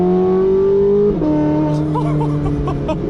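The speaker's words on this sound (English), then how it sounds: "The 918 already sounds insane, but with a straight piped V8, this thing is glorious." Porsche 918 Spyder hypercar with a straight-piped V8 and 9,000 RPM redline, revving loud and close with a sustained harmonic engine note that drops at a shift, then climbs again with crackling bursts.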